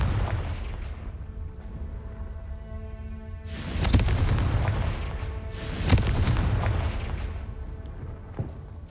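Two heavy booming blasts of the Confringo spell in Hogwarts Legacy, each a loud deep explosive burst with a rumbling tail, spaced about two seconds apart over a low ambient background.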